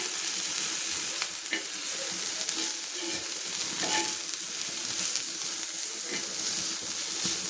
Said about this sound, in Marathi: थोडी मसुराची डाळ टाकली त्याच्यावर, हिरवी मिरची लसूण कुटून टाकलाय.